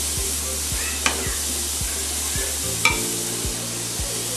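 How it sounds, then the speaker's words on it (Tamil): Grated carrots for carrot halwa sizzle steadily in a hot pan while a utensil scrapes and taps in a regular rhythm, with a continuous low hum underneath. "ஜஸ்ட்டு கேரட் போட்டு நல்லா வதக்குறேன்"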